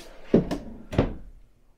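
Kitchen drawer for pots and pans beneath the oven in a 2021 Grand Design Transcend XPLOR 221RB travel trailer, giving a few close hollow knocks and a sliding thud as it moves, then quiet.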